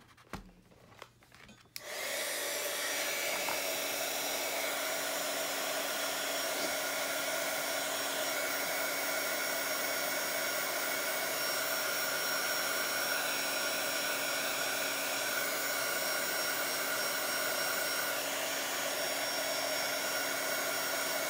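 A hair dryer blows steadily on a mixed media journal page, switching on after a brief moment of quiet and then running loud and unbroken, with a constant airy roar and a whining hum to the end.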